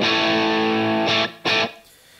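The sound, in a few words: guitar amp distortion, JCM 800 style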